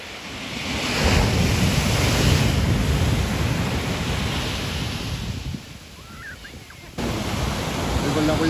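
Ocean surf at San José del Cabo, Mexico, a loud, steady wash of breaking waves that eases briefly and then surges back, heard alone with no talking.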